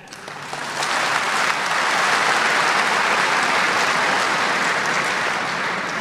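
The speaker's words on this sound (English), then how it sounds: "I request all the audience to give him a big clap." An audience at a talk by Dr. Zakir Naik breaks into applause, swelling within the first second into dense, steady clapping that holds strongly to the end.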